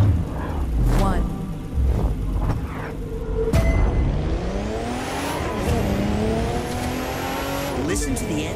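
A car engine revs hard and roars as the vehicle accelerates, with tire squeal and rising engine pitch, loud and close.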